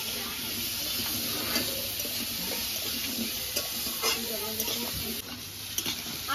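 Potatoes and vegetable stems fry in a pan with salt and turmeric, giving a steady soft sizzle and hiss with occasional stirring scrapes, fairly quiet and continuous.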